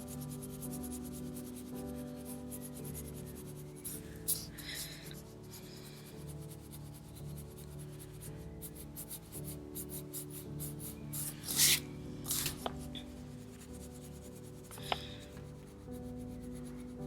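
A black colored pencil shades lightly across paper on a drawing of young Deadpool, giving a soft continuous scratchy rubbing that swells and fades with the strokes beneath steady background music.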